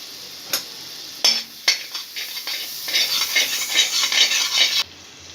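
Cumin seeds sizzle in melted butter in a pan for paneer butter masala. The frying hiss swells steadily, broken by a few clinks and scrapes of a stirring spoon, close up with no talking.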